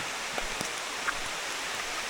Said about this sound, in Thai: ทุกคนเอ้ยฝนมาได้อีกละ